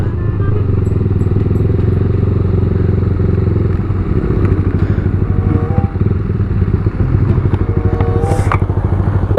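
A customised Yamaha R15 motorcycle being ridden, its engine a loud, steady close-up rumble with a rapid throbbing beat and slight changes in revs throughout, plus a brief high-pitched clatter near the end.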